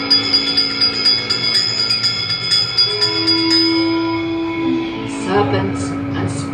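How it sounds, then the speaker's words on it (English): Bell ringing repeatedly inside the Haunted Mansion dark ride, bright tolling strikes over a steady rumbling ride track and eerie sustained tones, with a sudden burst of clanging near the end. "give us a hint by ringing a bell"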